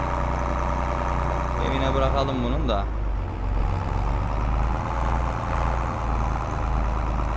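A New Holland TD75 tractor engine in Farming Simulator 22 drones steadily at a low, constant pitch while driving, with someone speaking briefly over it.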